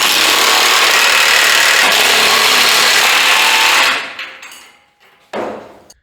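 Loud, continuous rattling power-tool whir while bolts are tightened on the end of car lift runways in a garage, cutting off abruptly, followed by a brief metallic clunk and fading ring.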